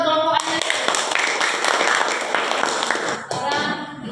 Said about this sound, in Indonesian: tepuk tangan buat kelompok Anyelir.